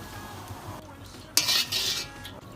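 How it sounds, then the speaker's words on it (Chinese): Sichuan peppercorns dropped into hot oil in a rural kitchen, a sudden burst of close sizzling that swells for about a second after quiet utensil clinks and stirring. "现在放花椒粒了啊"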